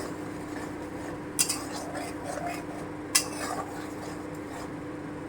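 A spoon scrapes and knocks against a pan while ginger paste is stirred for shahi paneer, two sharp clinks standing out over a low, steady background hum.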